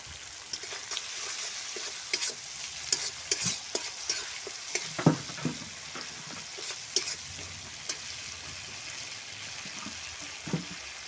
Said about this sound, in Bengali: এক চামচ হলুদের গুঁড়ো দিয়ে ভালো করে কষিয়ে নেবো